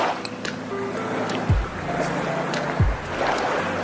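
Ocean water in the Virgin Islands sloshes and laps close by, with a steady watery wash punctuated by a couple of louder low splashes as the water moves.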